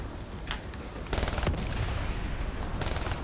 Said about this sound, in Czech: Já lehce čuknu a už to střílí, kámo.